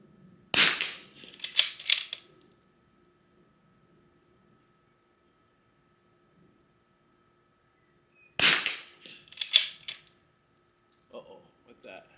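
Two sharp bursts of shots from a Bergara B14R rifle, each a loud crack followed by a few quick follow-up reports, separated by a long silence, close by and outdoors.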